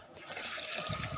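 Water poured into a blender jar while making watermelon juice, a steady close trickling and filling sound, alone without talk.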